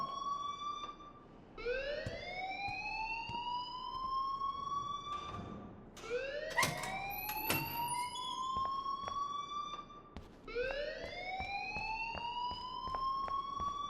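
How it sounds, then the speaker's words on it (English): Fire alarm in the game Life Is Strange, a repeating electronic siren that sweeps upward in long whooping cycles, loud and continuous with faint clicks between sweeps, and no talking. "please turn off that alarm since that's your job"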